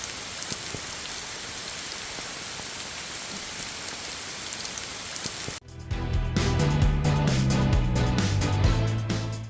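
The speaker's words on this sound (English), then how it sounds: "And it's just absolutely pouring rain right now." Heavy rain pours steadily on a mountain hike at Waterrock Knob, North Carolina, a dense even hiss that suddenly cuts to a louder, fuller passage with low tonal sounds. No one speaks.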